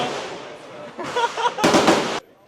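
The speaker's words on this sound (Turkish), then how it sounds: "10 mermi atacağız. AK-47 ile." AK-47 rifle fire at a shooting range: a few sharp, loud cracking bursts in quick succession follow a stretch of low background murmur, then cut off.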